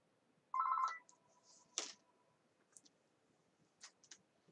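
A house telephone gives one brief electronic ring, faint and somewhat distant, followed by a sharp click and a few scattered small ticks in a quiet room.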